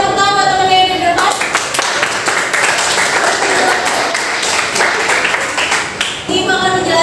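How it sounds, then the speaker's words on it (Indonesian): A classroom gives a student a burst of applause, many hands clapping together in a dense, steady wash for several seconds before it cuts off and a voice resumes. "Oke, beri tepuk tangan buat teman yang di depan."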